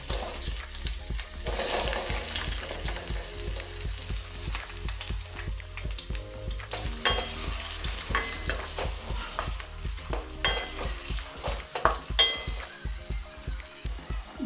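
Cut potatoes fry in a pan with a continuous crackling sizzle, broken by frequent clinks and scrapes of a spatula stirring against the metal, close and fairly busy throughout with no talk.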